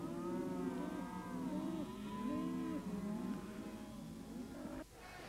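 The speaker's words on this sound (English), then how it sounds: "Kimberley cattle are offloaded at meatworks either in Broome or Wyndham." Kimberley cattle moo at a meatworks yard in Broome or Wyndham in the 1960s. Several overlapping, drawn-out bellows come from a herd at mid distance over a steady background hum, with no talking.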